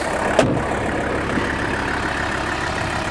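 A 1983 Mercedes 300SD turbo diesel engine running at idle, a steady rumbling drone heard close with one brief knock near the start and no talk.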